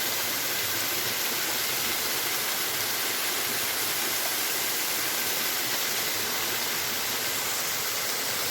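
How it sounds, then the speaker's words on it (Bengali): Water from a waterfall on a small hill in Chikli Park, Rangpur, a constant broadband rushing hiss that stays even and unbroken throughout, with no voices. "ঝর্ণার পানি পড়ছে।"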